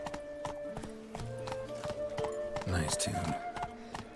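Roach, the horse in The Witcher 3, trots with rhythmic hoof clip-clops under in-game music, and someone speaks briefly during the clip.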